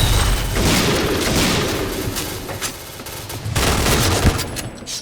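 Dense, loud automatic fire from the Israeli F-2000 rifle in the Point Blank shooter game, rattling almost without pause with occasional heavier bursts and impacts, and no talking over it.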